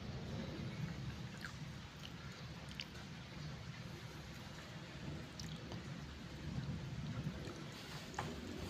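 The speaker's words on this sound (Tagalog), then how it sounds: "Maulan." Steady rain falls as a continuous low wash of noise, faint and even, with occasional soft drips standing out and a distant rumble underneath.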